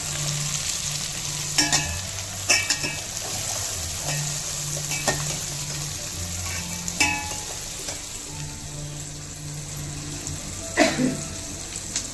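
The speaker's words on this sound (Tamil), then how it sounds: "இட்லிக்கு தான் அதனால் இந்த வெங்காயம் நல்லா பொரியணும்." Onions frying in a pan for a tripe curry to go with idli: a steady sizzle runs throughout, with a few sharp scrapes and clinks of stirring and a brief splash of water.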